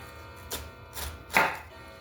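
A knife cuts down through the core of a cabbage on a board, making three crisp crunching cuts spaced about half a second apart. The last cut is the loudest and sharpest, all close up with no talk.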